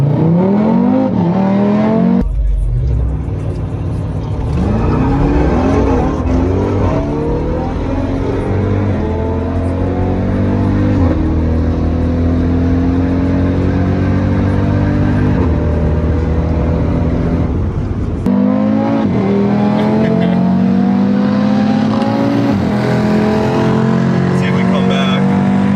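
A 500hp RS3-swapped Golf R races a stock Jeep Trackhawk, loud engine roars rising through repeated gear shifts with sweeping pitch climbs and wind rush. Voices talk over the engine noise.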